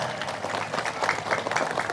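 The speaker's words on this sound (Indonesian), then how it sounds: "Tepuk tangan." An audience claps together in a short, even burst of applause lasting a couple of seconds, a dense patter of many hands heard at moderate distance.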